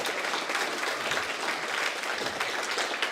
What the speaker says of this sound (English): So just round of applause for Charlie.